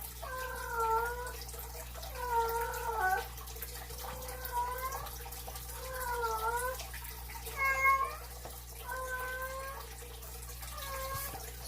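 A pet cat named Joy meows repeatedly in the background, about eight drawn-out, wavering yowls spaced roughly a second or two apart, fairly distinct over a low steady hum with faint watery noise.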